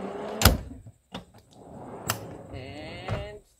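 A sliding kitchen drawer in the back of a Suzuki XL-7 touring vehicle thuds and knocks several times, with scraping slide noise between the sharp bumps, close by.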